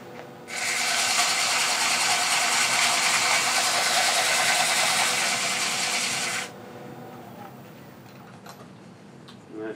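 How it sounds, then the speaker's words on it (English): Foam-backed sandpaper rubs by hand inside the mouth of a cherry burl hollow form, a steady, loud, raspy scratching that runs for about six seconds before stopping abruptly, leaving quieter shop noise. "I'm going to sand the inside of the mouth with a little bit of foam with sandpaper wrapped around it"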